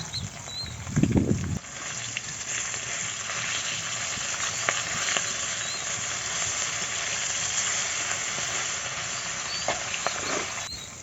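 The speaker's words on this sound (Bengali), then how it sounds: "এপিট ওপিট লাল লাল করে ভেজে নেব" Rohu fish frying in mustard oil in a wok, a close steady sizzle and spatter with a brief louder scrape or stir near the start and occasional faint clicks.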